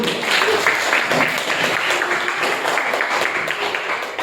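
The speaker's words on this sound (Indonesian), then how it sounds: "Berikan aplaus." Classroom applause from a group of students, steady dense clapping held at an even level throughout, fairly close and alone without talk.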